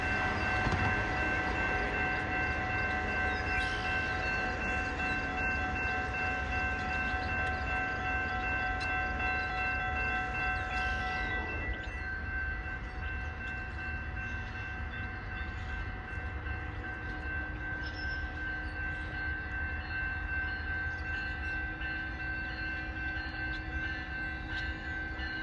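Passenger train of 12 cars led by cab car 308 passing in autumn, a long steady rumble of wheels and cars rolling by with sustained horn tones in the first half, continuing as a constant clatter nearby without speech.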